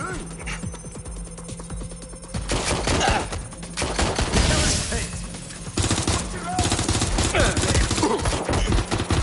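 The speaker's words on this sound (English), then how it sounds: "Shots fired! Using lethal force." Gunfire in the video game Watch Dogs Legion: bursts of rapid shots and loud impacts ring out in repeated waves over game sound, with a voice speaking through part of it.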